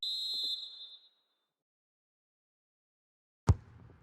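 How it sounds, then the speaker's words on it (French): A referee's whistle ends the first half of a Champions League final between FC Barcelona and Chelsea in a football video game: one sharp, sustained blast, then silence broken by a single dull thud. "L'arbitre siffle à l'instant la fin du premier acte de cette finale de Champions League."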